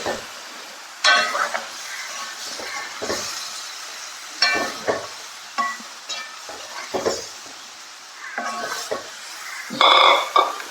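Crab pieces with their juices go into a hot frying pan for a home-style crab roast, giving a few bursts of sizzling and stirring scrapes with occasional metallic clinks. The spurts are spaced a second or two apart and there is no talk.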